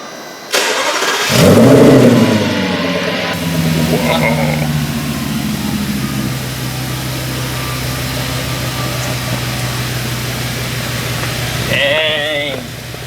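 An Audi S6 5.2 V10 engine without mufflers cranks on a cold start and catches, then settles into a loud, steady low idle with a deep rumble that carries on throughout.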